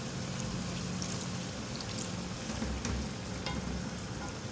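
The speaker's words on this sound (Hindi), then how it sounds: "2-3 टेबल स्पून इसमें पानी डालूंगी।" Water is poured into a pan of chicken ginger cooking with tomatoes, bringing a sizzling, bubbling hiss with a brief splash and stirring, close and fairly loud with no talk.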